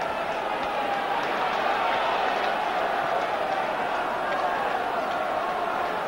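Kilmarnock football supporters applaud a departing player at a Killie versus Celtic match, a steady, broad wash of stadium clapping and crowd noise that holds evenly throughout.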